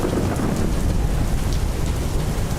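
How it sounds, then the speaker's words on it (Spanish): Heavy rainstorm with thunder in Mexico City: dense, loud, continuous downpour roaring without a break, with a low rumble underneath and no voices. "La fiesta apenas comenzaba cuando una fuerte tormenta azotó la Ciudad de México."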